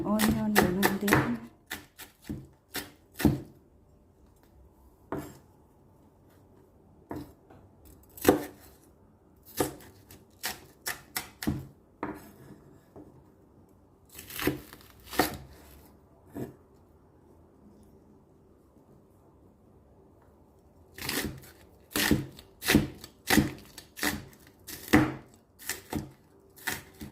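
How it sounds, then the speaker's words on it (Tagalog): Garlic and onion roughly chopped with a knife on a board, close sharp taps in irregular bursts with pauses between, while a person talks at times. "roughly chop ang ating garlic, ang ating onion, ganun din"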